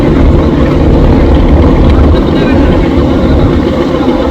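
Large passenger launch Sundarban-16 moving along a river on the Dhaka–Amtali route, a steady loud engine rumble and water wash running throughout, with some talk mixed in.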